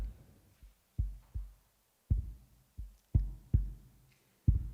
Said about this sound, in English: With the heartbeat of the drum, we hear the rhythm that has accompanied us all the way